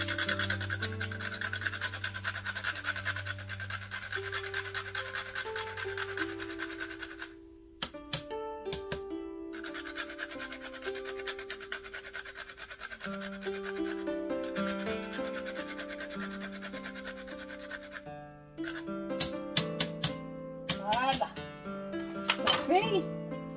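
Fresh nutmeg is rasped on a grater in a home kitchen in short scraping bursts, under background music with tonal notes.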